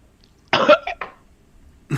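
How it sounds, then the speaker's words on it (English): A person coughs in a short harsh burst, then gives a quick second cough and a faint throat sound, close and loud against near silence. "Coughing up a hairball."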